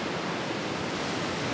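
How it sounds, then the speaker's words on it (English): Powerful sea waves break on a rocky stretch of the Northumberland coast in a continuous, loud, broadband roar of surf and spray with no distinct breaks, close by and with no voices. "waves are so powerful,"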